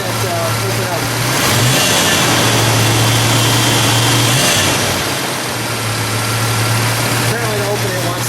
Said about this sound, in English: give it one rev so we can see that open up